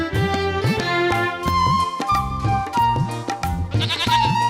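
Goat bleats repeat in quick succession over a busy, loud cartoon music bed in a 2D animated Hindi children's story, the wavering calls riding on top without any speech.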